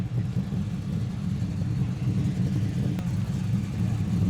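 Holden HK Kingswood station wagon with a V8 engine at a classic car show, giving a steady, deep low rumble at idle, fairly close and continuous throughout.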